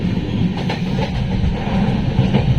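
A train rolls in toward Barauni in the early morning, a steady low rumble of moving carriages with faint rhythmic wheel clatter, continuous and fairly close throughout.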